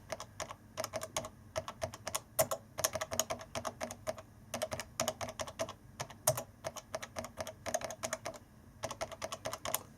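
Keys clacking on a computer keyboard, typed in quick irregular bursts with short pauses between, close and fairly quiet, with no voices.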